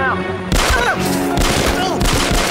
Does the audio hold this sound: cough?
no